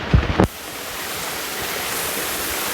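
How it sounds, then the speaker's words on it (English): A waterfall at Umladang in Meghalaya roars as a steady, dense rush of falling water close by. A short burst of handling noise comes just before it. "That is the #1 waterfall."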